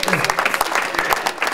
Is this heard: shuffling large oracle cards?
no